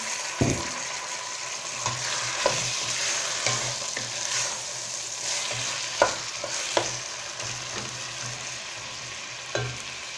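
Vegetables with tomatoes fry in a pan for macaroni with tuna, a steady close sizzle with occasional clinks and scrapes of stirring, with no talk.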